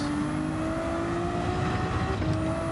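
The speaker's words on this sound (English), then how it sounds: "Ooh, the sound is nice of the turbo." A turbocharged race car in the Gran Turismo 7 video game drones steadily, a sustained engine tone that holds fairly loud across the whole stretch, with a slight pitch shift near the end and no talk.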